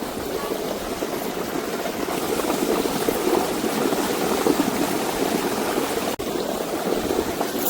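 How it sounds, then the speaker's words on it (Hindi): Water rushes steadily along a farm channel being used to irrigate fields, a continuous close, moderately loud flowing wash with no talking. "खेतन की सिंचाई को पानी है जो"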